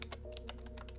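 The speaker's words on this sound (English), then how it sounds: "Keyboard typing, slow, controlled, deliberate like handwriting made audible" Slow, controlled keystrokes on a computer keyboard, several distinct clicks in a steady deliberate rhythm over a low background hum, heard alone and fairly quiet.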